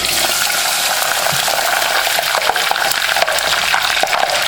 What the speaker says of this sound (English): Just kind of give it a pass through the water just like this.